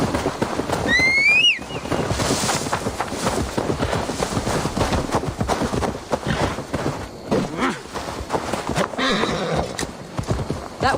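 Horse hooves clip-clop in a steady rhythm on hard ground in the video game Assassin's Creed Valhalla, and a horse whinnies near the start.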